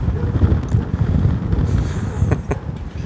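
Steady low rumbling wind buffeting the microphone outdoors, continuous and fairly loud, with a couple of brief sharper gusts near the end.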